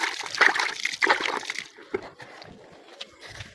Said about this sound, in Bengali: গাছগুলো পানি দিচ্ছি।